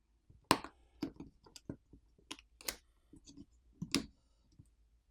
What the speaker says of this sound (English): Now the top plastic cover can be removed.